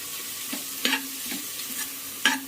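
Chopped tomatoes frying in a pan for vegetable rice, a steady soft sizzle with a few sharper stirring scrapes, close and alone without talk.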